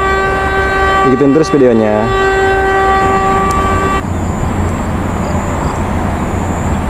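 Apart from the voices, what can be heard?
passing train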